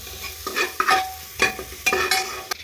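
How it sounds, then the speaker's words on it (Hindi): Onions with salt frying in a pan, stirred in several distinct scraping sweeps over a steady close sizzle, with no talking. "नमक डालने के बाद फिर से इनको कुछ देर तक भूनते हैं ताकि प्याज है पूरी अच्छी तरह से गल जाए"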